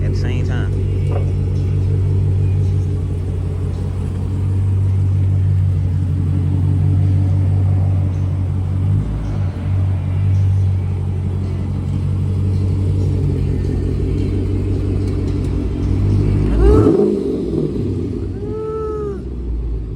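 A Dodge Challenger with its muffler removed idles with a loud, deep, steady exhaust rumble that swells slightly, with a short throttle blip near the end.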